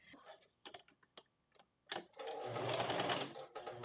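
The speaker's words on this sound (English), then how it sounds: "now we're going to sew pretty close to the edge here, just catching it so that we can secure that collar" A sewing machine stitches close along the edge of a shirt collar, first with quiet clicks and short ticks, then with a brief, steady run of fast stitching, faint and close.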